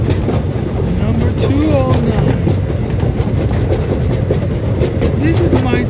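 Paradise and Pacific Railroad miniature train number 209 riding at McCormick-Stillman Railroad Park, a loud steady rumble and clickety-clack of wheels on rails with occasional squeals, heard from on board, with talk mixed in.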